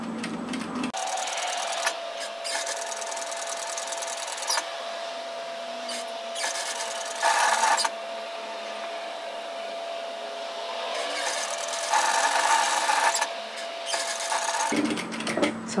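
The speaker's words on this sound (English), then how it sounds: "I'm just going to stitch through that overlocking line" A sewing machine stitches steadily along an overlocking line on a flutter sleeve top, giving a loud continuous mechanical whir that briefly changes pitch and stops abruptly near the end.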